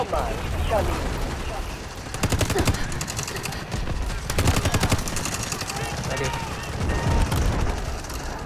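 Bursts of AUG rifle fire in the mobile shooter game Delta Force Mobile, several rapid volleys in short clusters, loud and close, with someone talking over the gameplay between and during the shots.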